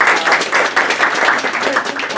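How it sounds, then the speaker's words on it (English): People at a board of education meeting give a round of applause, a loud, busy wash of overlapping claps that holds steady throughout. "if you give her a round of applause"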